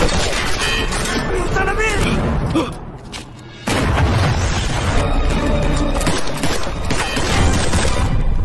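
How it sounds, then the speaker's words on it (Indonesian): A bomb blast in a film booms loudly amid a dense, chaotic soundtrack of crashes and gunfire, with a short drop in the middle before the heavy noise comes back. "Gao Zhang yang sudah terpental jauh akibat bom"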